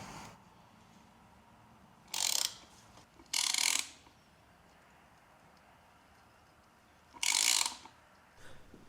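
A tap cuts new threads into a part from a 1974 Kawasaki G5 100 two-stroke motorcycle: three short, close ratcheting bursts separated by quiet pauses.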